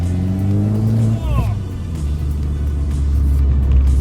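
A 2014 Abarth 500 engine revs up from inside the car, a steady droning note that climbs and then settles into a low rumble, with someone talking over it.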